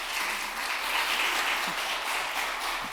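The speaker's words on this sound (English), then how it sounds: "If you wouldn't mind giving our panel a round of applause." Faint, steady applause from an audience thanking a panel after a Q&A session on food banks, continuous for three seconds at a distance.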